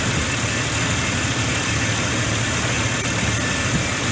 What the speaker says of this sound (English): But it is idling pretty good now.